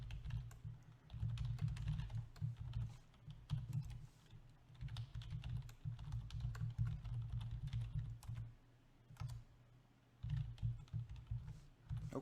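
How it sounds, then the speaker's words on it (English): Quiet typing on a computer keyboard while code is entered, with rapid irregular key clicks in bursts and brief pauses between runs. "we're just going to type them out."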